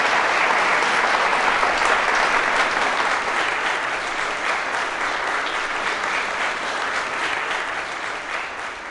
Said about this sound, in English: A huge round of applause, ladies and gentlemen, for the wonderful Sharmila Ryan.